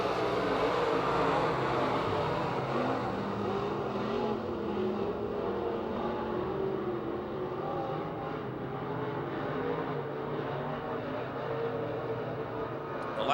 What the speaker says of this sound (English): now the race is on down the back chute into turn 3